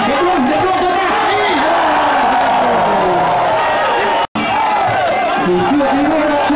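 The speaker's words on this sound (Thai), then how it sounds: "เชียร์มีเยอะนะครับ" Loud, dense crowd cheering and shouting at a Muay Thai-Malay K Fight event in Dannok, with a constant roar of voices that cuts out for an instant before swelling back.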